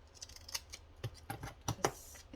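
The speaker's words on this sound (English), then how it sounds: "these scissors, the hairdresser kind, they also work for not just stamps, but your tags and things." Hairdresser scissors cut paper scraps in a series of short, crisp snips spaced irregularly, close and fairly quiet, with no voices.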